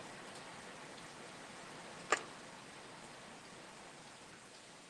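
Heavy rain from Hurricane Ian in Florida falls as a steady, faint hiss of dense drops, broken by one sharp tap midway.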